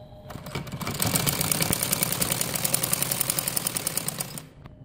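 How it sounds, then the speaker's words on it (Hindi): A sewing machine stitches the side seam of a child's umbrella frock in one continuous run of rapid, even needle clatter, starting and stopping cleanly after a short lead-in of slower ticks. "इसी तरह मैं दूसरी तरफ सिलाई लगाऊंगी"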